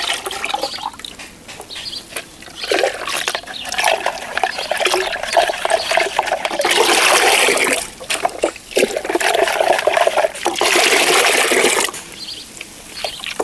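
Liquid fertilizer is poured into a container holding 10 litres of water, making a gurgling, splashing stream in uneven bursts with brief pauses, close and fairly loud.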